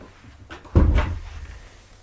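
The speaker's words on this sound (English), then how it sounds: "Mr. Gilchrist, would you please close the door?" A door swings shut with a single solid thunk and short rattle near the middle, close and fairly loud, in a quiet room.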